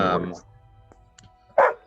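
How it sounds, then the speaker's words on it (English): A dog barks in the background, two short bursts at the start and near the end, with a quiet gap and faint sounds between. "I'm sorry for the dog barking in the background."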